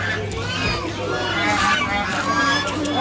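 Geese honking steadily among other foreign birds at an old zoo, a dense, continuous chorus of calls mixed with a crowd's background chatter.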